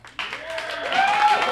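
A game show studio audience breaks into clapping mixed with cheering voices. The sound starts abruptly and swells to a steady, lively roar.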